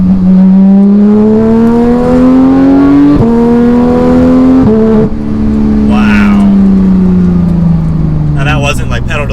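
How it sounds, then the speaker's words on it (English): Porsche 911 GT3 six-cylinder engine pulling hard, its loud rising howl cut by quick gear shifts, then easing down as it slows, with a person speaking briefly. "that is so quick the way that transmission shifts, and that sounds amazing"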